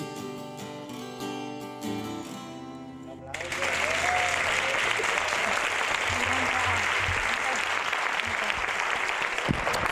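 Guitar playing gives way to a burst of dense audience applause that swells and holds loud to the end, with a few voices calling out over the clapping.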